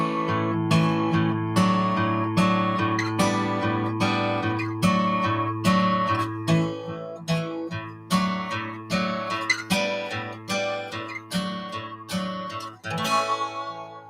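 An acoustic guitar plays a triad chord exercise, with plucked chord shapes ringing in a steady, unhurried rhythm over sustained notes and a final strummed flourish, close and alone.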